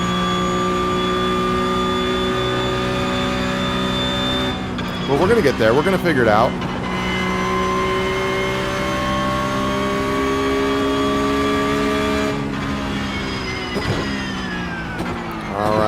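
Race car engine in the iRacing sim holding a steady high whine with stacked harmonics, a brief revving burst midway and a shift near the end, while someone talks over it.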